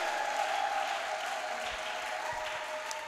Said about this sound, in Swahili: Piga makofi mazuri.